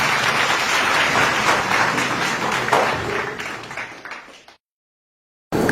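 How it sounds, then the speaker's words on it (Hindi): Loud, dense applause from a crowd welcoming senior advocate K. Shukla, the judge at a public debate event, sustained for about four and a half seconds before fading out abruptly into silence, then resuming briefly. "एक बार जोरदार तालियां हो जाएं वरिष्ठ अधिवक्ता के शुक्ला जी के लिए"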